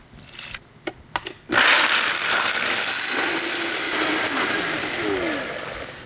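A blender whirs up to full speed on a nut mixture after a few clicks and knocks, then runs as a loud, steady, close grinding whine, its pitch wavering slightly.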